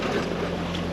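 Sailboat motoring over an ocean swell with sails lowered, a steady engine drone with a low hum under broad wind and water rush, loud and close throughout.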